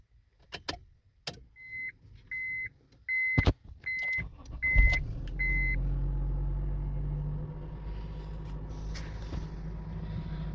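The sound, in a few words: Honda CR-V engine starting and rough idling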